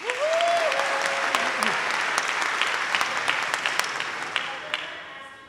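Sustained applause from a church congregation at a community organizing assembly, loud, dense clapping filling the room throughout, with a brief voice audible near the start.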